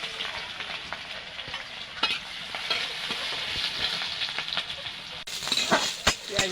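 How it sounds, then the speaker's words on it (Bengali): Chopped garlic, onion and green chilli fry in hot oil with a continuous close sizzle, punctuated by sharp stirring scrapes and clinks throughout. "এটা দিয়ে দেবো তেলে। তেল গরম হয়ে গেছে।"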